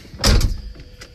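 A car door on a 1996 Camaro Z28 swings shut with one solid thud and latch, close and fairly loud, followed by a faint rattle and a soft settling click.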